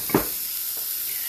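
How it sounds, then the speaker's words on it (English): Venison holiday sliders sear in a hot pan, giving a steady hiss with a brief louder crackle near the start, heard alone. "we got the sliders sizzling"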